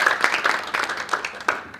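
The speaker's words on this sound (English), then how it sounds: "Please welcome her with a big applause." Applause from the audience at a plenary session on 7 December 2017 as a speaker is welcomed, a short burst of clapping heard close and fairly loud with a few distinct claps standing out.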